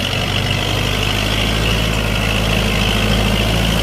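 A Kubota MU4902 tractor runs steadily as it works a muddy rice paddy, its loud, continuous low engine drone holding even throughout, with no talk over it.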